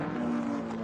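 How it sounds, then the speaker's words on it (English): D-type Jaguar racing car leaning through Madgwick corner at Goodwood during the Lavant Cup race, a steady loud engine drone held close for under a second with no voices. "Martin Stratton leans on the D-type Jaguar, turning out of Madgwick corner"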